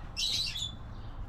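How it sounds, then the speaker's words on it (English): Birds chirp outdoors near a cooking fire, a short bright twittering burst heard faintly over low background rumble. "Look, all the birds are coming out to watch."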